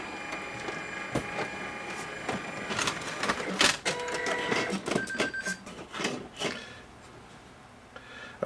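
Brother printer powering up, a sequence of mechanical clicks, whirring motor runs and short electronic beeps up close, with irregular clunks as internal parts move.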